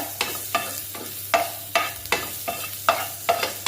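Thinly sliced green chillies frying in ghee, a continuous close sizzle punctuated by regular spoon or spatula scrapes against the pan, roughly two or three a second, with no talking.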